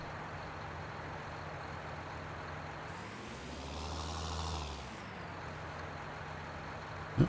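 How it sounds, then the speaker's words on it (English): A two-wheel-drive tractor pulling a water wagon out of a pond in Farming Simulator 19: steady engine drone that rises in a low, labouring swell midway, then settles, ending with a short click. "I don't know if this two-wheel drive tractor will pull that water wagon up out of the pond"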